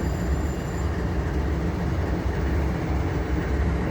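Norfolk Southern train moving through a rail yard in Liberty, Missouri: a loud, continuous low rumble of rolling railcars that stays steady throughout, with no voices.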